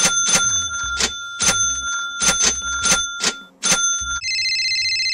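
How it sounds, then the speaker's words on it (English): An animated movie's phone rings with an incoming call, sounding as repeated bright trilling bursts in an irregular rhythm, loud and close, before a steadier electronic tone takes over. "Oh, Taco Bell Dog's calling me."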